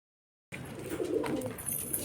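After a brief moment of silence, pigeons at a market bird show in Bhopal coo faintly, with soft murmuring calls and light chirps over a steady background hum.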